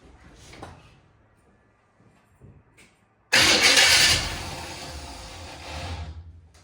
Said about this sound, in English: I'm gonna prime the carburetor with a little bit of carburetor cleaner and see if we can get it to fire off just a little bit.